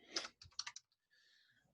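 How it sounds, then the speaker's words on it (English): Computer keyboard typing, a short burst of about half a dozen quick, close key clicks followed by a faint hum, quiet and alone. "I can type."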